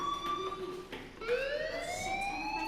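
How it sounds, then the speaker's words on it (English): Fire alarm in the video game Life Is Strange, a wailing electronic siren with tones that dip and then sweep upward, loud and steady with no talking. "do you hear that fire alarm?"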